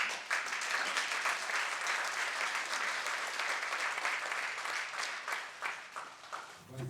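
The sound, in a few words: audience applause for speaker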